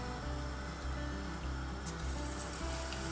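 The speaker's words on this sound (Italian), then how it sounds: "sta friggendo bene, quindi the oil is perfect" Mozzarella frying in hot oil for fried appetizers, giving a steady, close crackling sizzle with soft low bubbling pulses throughout, no voices.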